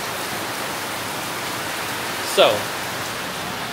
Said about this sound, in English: It just starts pouring down.